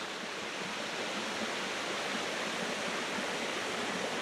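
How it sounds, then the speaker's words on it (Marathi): A waterfall in Raigad during the rainy season roars in a steady, unbroken rush of falling water, close and constant with no voices. "तर फायनली धबधब्याजवळ पोचलोय"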